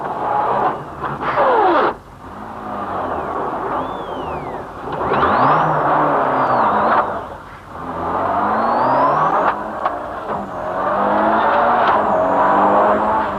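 A 1989 Mitsubishi rally car on a World Rally Championship stage in Kielder, the engine revving hard and rising and falling through repeated gear changes, with brief lulls between bursts as it drives close by.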